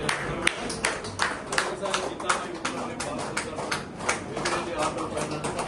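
An audience claps at an auto finance company's anniversary event, a scattered run of quick hand claps rising and falling under a speaker addressing the crowd.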